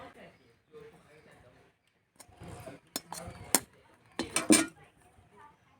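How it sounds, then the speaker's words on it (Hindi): Mustard greens saag ladled from a cooking pot into a serving vessel: a few sharp metallic scrapes and clinks arrive in short bursts, following quieter earlier moments with someone speaking. "ये जो सरसों का साग है इसे मैं किसी बर्तन में निकाल लेती हूँ"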